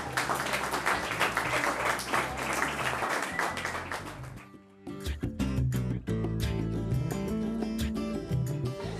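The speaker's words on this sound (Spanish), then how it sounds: "un aplauso para un poeta" A poetry festival audience in Córdoba applauds a poet with a burst of dense clapping from many hands that fades after about four seconds, followed by music taking over.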